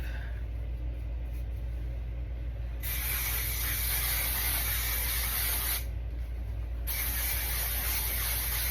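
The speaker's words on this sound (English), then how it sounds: "Let's spray this forehead before I lose my nerve." Cosmetic spray misted onto a forehead, two steady hissing bursts of about three seconds each, close and fairly soft, over a constant low hum.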